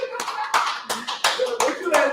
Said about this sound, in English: What you clapping for?